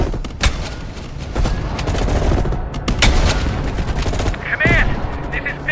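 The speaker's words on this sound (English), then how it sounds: "You readied your sniper rifle to assist." Video game gunfire in Call of Duty: Cold War: loud rapid bursts of automatic shots and sharp cracks, dense and continuous with some booming impacts, close and intense throughout.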